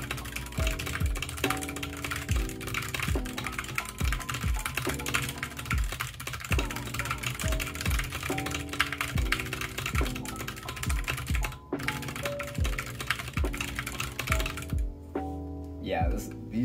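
Rapid typing on an AC61M 60% keyboard with an aluminum case and very light optical switches, a dense stream of close keystrokes heard over steady tonal background music.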